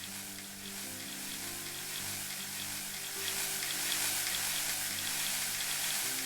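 Crop spraying in the farming game Farm Manager 2021, a steady hissing, sizzling spray that swells louder partway through over a faint low hum, with no voices.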